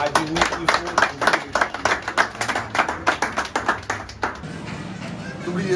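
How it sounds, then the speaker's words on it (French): A gathered audience claps for a trainer at the official opening of a law firm in Les Cayes, Haiti. The sharp, close hand claps fall in a fast, even rhythm, then break up into looser scattered applause that trails off. "Je demande à toutes les personnes ici présentes de porter un applaudissement pour ce grand formateur Joseph Saint-Ville"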